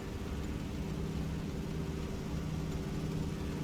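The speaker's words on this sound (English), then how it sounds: "I really do love the way this plane sounds. It's got that big radial engine up front." A big radial engine on an old seaplane in a flight video game drones steadily and evenly throughout, a close, continuous low rumble with no talking.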